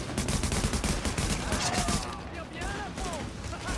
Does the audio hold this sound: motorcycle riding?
no